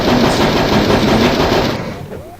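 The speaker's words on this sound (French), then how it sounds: "Mais la mitraillette aussi peut être pratique." Rapid machine gun fire from the video game Hogs of War rattles loud and continuous for about two seconds, then cuts off into a fading tail.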